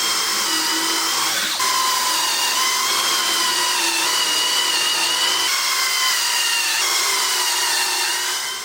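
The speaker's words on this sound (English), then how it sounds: "I'm just going to go ahead and put this jig on and get all these drilled" Steady, loud drilling of pocket holes through a Kreg jig into the wood frame of a rustic barn door for a chicken coop, a continuous high whine with brief pauses and restarts.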